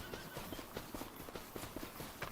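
Horses walking in Farming Simulator 25 make a steady, even clip-clop of hooves that stays close and moderately loud against a constant ambient wash, with no talking.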